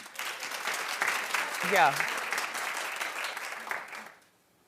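Studio audience applause at a daytime talk show, a broad steady wash of clapping lasting about four seconds before dropping away, with a brief voice heard over it.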